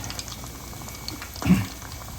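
Frozen chicken katsu bubbling in hot oil, a soft continuous seething with one brief louder gurgle midway, heard close with no talk.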